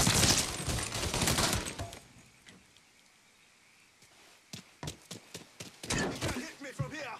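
Shotgun blasts in the Mafia III video game, a loud dense burst of firing at first, then a lull and a series of sharp separate shots, with a voice talking over part of it.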